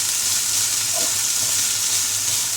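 Chicken pieces frying in a pan for fried rice, giving a loud, continuous bright sizzle and crackle with no talking.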